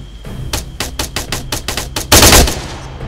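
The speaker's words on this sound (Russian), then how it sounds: "все по камню стреляют" Gunfire in Arma 3 Altis Life during an attack at a diamond mine: about nine close, evenly spaced shots ring out, then a louder dense burst of rapid fire closes the sequence.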